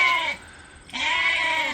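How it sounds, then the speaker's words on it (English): Weaned lambs bleat for their mothers on a farm: two loud, close, wavering bleats separated by a short pause, with no voices. "We'll have a sheep serenade for at least a day or two"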